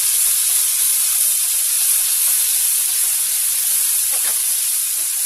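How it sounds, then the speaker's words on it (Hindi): Spices, salt and red chili frying slowly in hot oil, giving a steady, even sizzle with a continuous hiss that stays close and unbroken, with no voices over it. "इसको स्लो पे अच्छे से भूनने देंगे मसाले को।"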